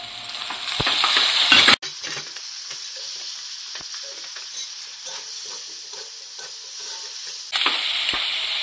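Onion paste hits hot oil for a chicken curry with a loud burst of sizzling, then settles into a steady quieter fry with occasional stirring scrapes before the sizzle swells again.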